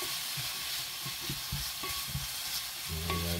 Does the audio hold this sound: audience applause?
no